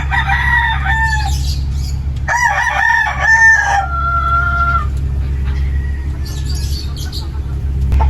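Maclean gamefowl roosters crow on a farm in Batangas, with one loud, close cock-a-doodle-doo and a second overlapping crow after it, then fainter calls from birds farther off, all over a constant low rumble.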